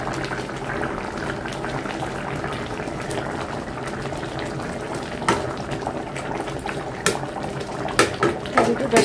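Tomatoes simmer in a pot of sea-fish curry, a steady close bubbling and hiss with scattered pops and spits growing a little busier toward the end.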